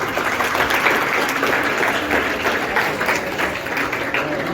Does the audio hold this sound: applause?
yes